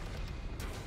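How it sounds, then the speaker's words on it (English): Cannon firing in the Trine video game, a dense rumbling boom with a sharp burst partway through, short and fairly loud. "Cannon!"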